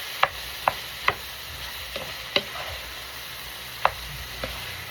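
A spoon scrapes and knocks in a pan of garlic and onions for a breakfast casserole, giving several crisp, irregular taps over a faint steady sizzle, close and without voices.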